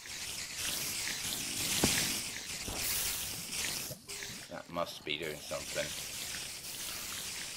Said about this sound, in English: I think that's the sound of burning.